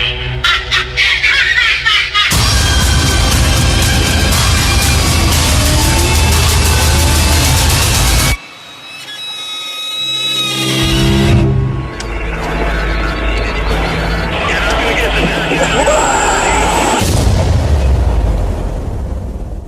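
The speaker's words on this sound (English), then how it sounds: "That was the trailer for Last Radio Call." Horror film trailer for Last Radio Call, loud sustained cinematic sound with heavy booms and bursts, a sudden drop to near quiet midway, then rising tense drones and effects.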